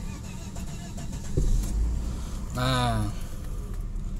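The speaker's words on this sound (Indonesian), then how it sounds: "Sekarang kita starter." A 1995 Volvo 960 Royal 3.0 automatic cranks briefly on its starter, a short whirring burst near the middle that rises and fades, with light talk before it.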